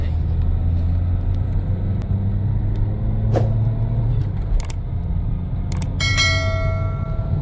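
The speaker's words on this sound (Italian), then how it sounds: "questo è il rumore del motore dall'interno dopo il cambio del motore." A steady low engine drone heard from inside a car after an engine replacement, continuous throughout, with a few faint clicks and a brief higher tone near the end.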